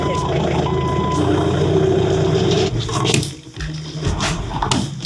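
A FedEx delivery truck pulls up with a low engine rumble and a steady tonal beep running through the first half, then shifting, clattering truck noise, with people talking nearby.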